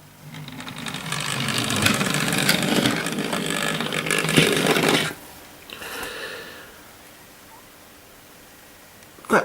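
A Hornby Dublo LNER N2 model tank engine runs noisily on its track, giving a steady, loud mechanical whirr and rattle for about five seconds before it stops, leaving quieter handling noises and a final click.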